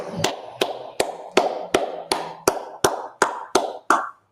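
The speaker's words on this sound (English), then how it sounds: "let's clap it up." A group claps together at a Tuesday night brotherhood class, about eleven loud, sharp claps in an even, steady rhythm before stopping.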